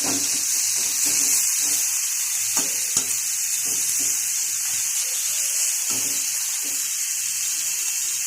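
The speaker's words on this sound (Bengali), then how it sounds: "এটা আর আলাদা ভাজবো না, এই এর সাথেই ভাজা হয়ে যাবে।" Shrimp and taro stolons (kochur loti) fry in a little oil, giving a steady, close sizzling hiss with faint scraping stirs now and then.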